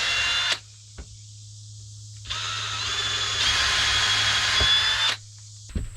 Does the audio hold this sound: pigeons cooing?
no